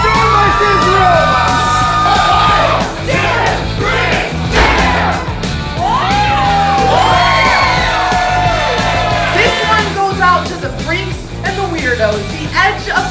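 A loud audience yells, whoops and screams continuously to pick a winner at a live show, with overlapping shouting voices rising and falling throughout.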